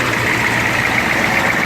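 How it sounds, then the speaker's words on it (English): A 1983 Ford 6.9 diesel engine runs just after a cold start, holding a steady, loud, rough idle throughout the short stretch. "you gotta blip the throttle to get the cold advance."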